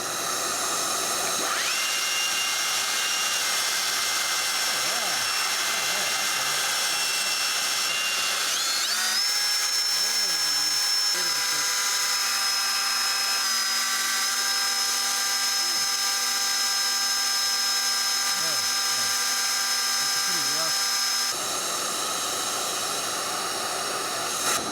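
A Milwaukee M18 cordless belt sander running on speed 1 while sanding clamped wood: a continuous high whirring drone with a steady pitch that shifts slightly upward partway, close and sustained for about twenty seconds.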